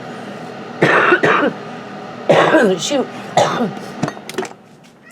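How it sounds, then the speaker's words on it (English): A few harsh coughing bursts close to the mic, spaced across a few seconds, with a short spoken word mixed in. "Let me just cough for a minute."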